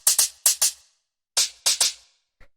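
A deeper, fatter hi-hat sample at its original pitch plays in short groups of crisp, breathy hits with gaps between them, isolated and fairly close.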